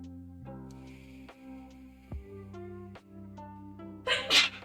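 A single sudden sneeze bursts out near the end, loud and close, after a stretch of sustained tonal background music.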